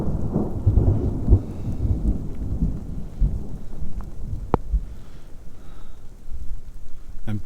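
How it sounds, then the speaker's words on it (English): Deep rolling thunder rumbles through a steady rainstorm drumming on a campsite, with low booms swelling and fading over several seconds against the constant patter of rain. "Thunder, I mean."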